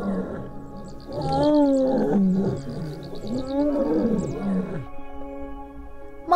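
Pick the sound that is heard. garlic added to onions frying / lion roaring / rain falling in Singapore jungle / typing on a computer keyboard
lion roaring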